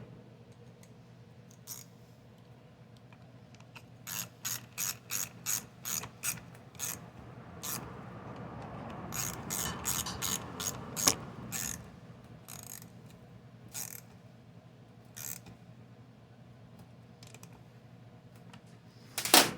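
A ratchet tightens two 8mm nuts on a Poulan Pro PP4218A chainsaw carburetor, with bursts of quick clicking pawl strokes spread across the clip, some in rapid runs, close and fairly crisp against a quiet background.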